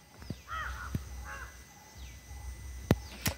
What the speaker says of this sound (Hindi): काँव काँव कर रही है